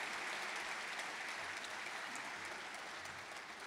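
Steady, dense applause from a theatre audience at the Teatro Coliseo, filling the whole stretch at an even level with no pauses and no voices.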